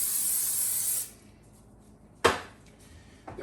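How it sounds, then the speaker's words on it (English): Cooking spray hisses into a Pyrex baking pan for a lasagna, one long close spray lasting about a second, then a brief sharp puff and a faint one later. "We're going to hit that with a little spray."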